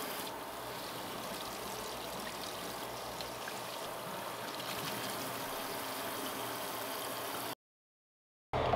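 Water streams and splashes steadily indoors as a car cleaning part from a VW MK6 Jetta GLI is rinsed, a continuous close trickling wash that cuts off abruptly near the end.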